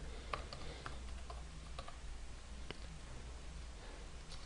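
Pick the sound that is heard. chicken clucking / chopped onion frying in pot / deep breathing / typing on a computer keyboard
typing on a computer keyboard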